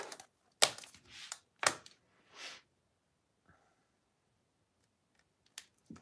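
Material for a wallet being cut, giving a few sharp, close snips and clicks in quick succession, then near silence broken by a faint click and one last crisp snip.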